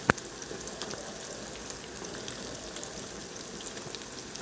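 Cauliflower fries in hot oil with a steady, even crackling sizzle that stays at moderate loudness throughout, opening with a brief sharp click.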